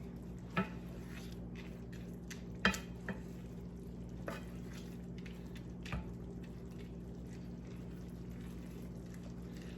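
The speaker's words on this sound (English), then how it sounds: "you're going to want to stir this constantly so it doesn't burn and it's not sticking to the pan" A spoon stirs red wine risotto with hot broth in a pan: a steady, quiet simmering hiss broken by a few soft clicks and scrapes of the utensil against the pan.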